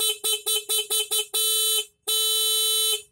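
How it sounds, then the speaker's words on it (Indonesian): A motorcycle horn wired into a cheap homemade anti-theft alarm sounds up close: six quick rhythmic beeps, then two long loud blasts separated by a brief gap, with no talking. "berfungsi cuman klakson ini"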